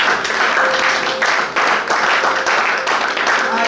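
A church congregation at a Sunday service applauds steadily, a dense, loud wash of many hands clapping that continues throughout without pause, with voices mixed in.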